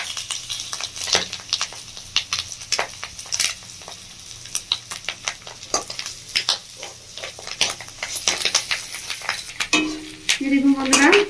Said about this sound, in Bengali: এবার পিসগুলোকে একটু ভেজে নেবো